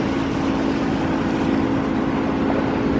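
A sailboat's engine runs steadily on Lake Ontario in fog, a constant loud droning hum with wind and water noise, no pauses.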